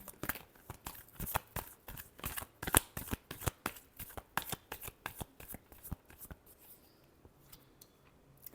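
Tarot cards being shuffled in a rapid run of crisp riffling flicks, close and clear, with no talk, tapering off to quiet near the end.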